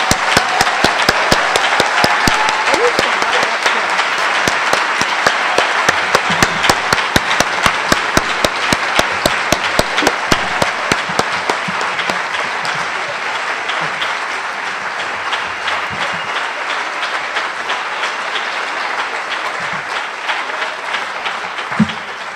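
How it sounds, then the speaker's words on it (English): A conference keynote audience gives a long, loud round of applause, dense clapping that fills the room and slowly thins toward the end, with no speech over it. "giving them a huge round of applause"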